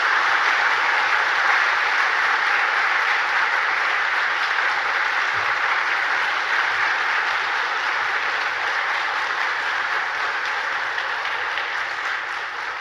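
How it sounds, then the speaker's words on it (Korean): A church congregation claps steadily for almost thirteen seconds, a dense, even wash of applause that holds at full strength and eases only slightly at the end. "그 마음을 담아서 박수로 우리 목사님 환영하겠습니다."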